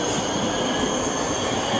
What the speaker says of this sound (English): We're going to have a train here that's going to pass us.